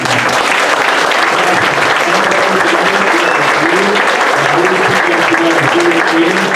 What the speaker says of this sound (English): I'd like to give a big round of applause.